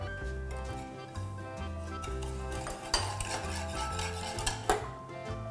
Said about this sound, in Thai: ไข่ลงไป รีบคนกัน ให้มันเข้ากัน